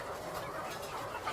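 Roosters of about two kilos each cluck softly and steadily at a poultry yard, a continuous low fowl chatter close by with no talk over it.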